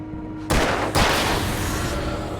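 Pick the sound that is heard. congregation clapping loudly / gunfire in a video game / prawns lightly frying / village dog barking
gunfire in a video game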